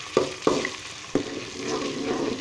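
Tomatoes going into a hot pan of chana dal sizzle steadily, with three sharp stirring clacks of a spoon near the start over the continuous frying hiss.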